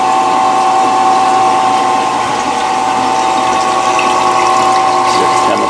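A Kodak 16K film processor with developer, stop and fix chemical baths runs close by, giving a steady loud mechanical whir with a constant hum, a gear-like rattle and a faint sound of water flowing.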